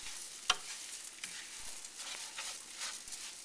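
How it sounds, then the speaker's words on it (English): Rice stirred with onions in olive oil: a faint, steady sizzle with soft stirring scrapes and one sharp tap early on. "now I'm going to be mixing the rice with the onions, and I want the rice to be coated with the olive oil"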